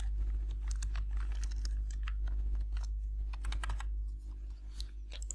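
Computer keyboard keys clatter in quick, uneven bursts as a password is typed, the clicks steady and close over a low background hum with a brief pause near the end.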